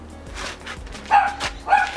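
A dog gives a few short, close barks and yips in quick succession against a quiet background.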